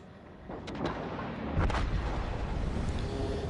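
Warship guns fire in World of Warships Legends as a muffled, rumbling boom that swells and lingers over steady background noise.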